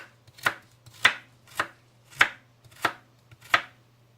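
A kitchen knife chops through hard carrots and celery on a cutting board, six crisp, evenly spaced chops about half a second apart, close and clear with no talking.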